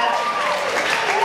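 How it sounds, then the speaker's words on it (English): Audience at an amateur boxing bout at an outdoor picnic event gives a brief burst of clapping and crowd noise, mixed with voices. "Another big round of applause."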